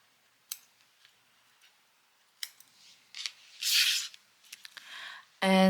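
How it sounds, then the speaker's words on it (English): Scissors snip through worsted yarn after finishing a crocheted puff-stitch Christmas ornament, a few quiet clicks and rustles followed by a louder, sharper cut near the end. "Then cut your yarn."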